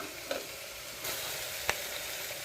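Green peas masala sautéing in a pan with a steady low sizzle, broken by a few brief stirring clatters, close by and with no talking.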